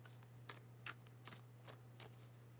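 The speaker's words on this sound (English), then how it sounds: "while I shuffle the deck" A deck of tarot cards is shuffled in repeated soft riffles and slides, about six quick bursts at a steady pace, close by, over a low constant hum.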